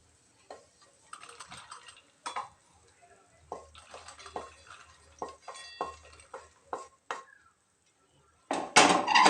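A spoon scrapes and taps cooked brinjal bharit mixture out of a kadhai into a mixer jar, a series of irregular metallic clinks and scrapes near and fairly quiet, ending with a louder clatter.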